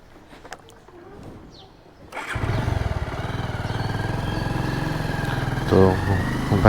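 A motorcycle engine fires up after about two seconds of quiet outdoor background, then settles into a steady, close, throbbing idle with a brief rev near the end.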